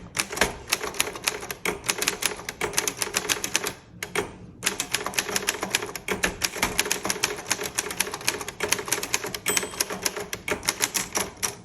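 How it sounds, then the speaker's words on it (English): Typing a line on a 1934 Underwood Universal manual typewriter: rapid, crisp keystrokes clatter in a dense steady run, pausing briefly near four seconds before the hammering resumes, close and fairly loud with no talking. "I'm going to type a line, and then I will also do the margin release on this line."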